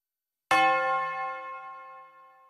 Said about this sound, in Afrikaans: Ting tang, ting tang, gaan die klokkie om sy nek.